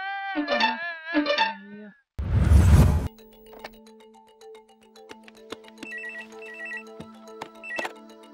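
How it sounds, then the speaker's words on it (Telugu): A telephone rings with repeated electronic bell tones that sound several times over a steady background hum, following a burst of loud noise and brief speech at the start. "వీడు మళ్ళీ ఫోన్ చేశాడ్రా"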